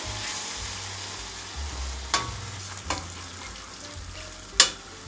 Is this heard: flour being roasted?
yes